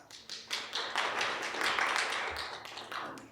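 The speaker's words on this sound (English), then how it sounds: "can we please give a round of applause to Dr. Tebogo once more?" Brief applause from a university winter school audience after a speaker, a quiet spatter of hand claps lasting a few seconds without talk over it.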